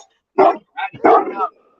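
A dog barks in short, close, loud bursts indoors, three or four sharp yaps in quick succession, with a person's voice nearby.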